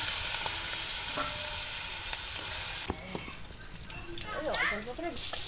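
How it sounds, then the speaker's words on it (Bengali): Fish sizzles loudly in hot oil, then the frying drops to a softer crackle with stirring sounds and brief voices nearby. "দিয়ে সব ভাজা করতে মাছটা দিয়ে দিলাম।"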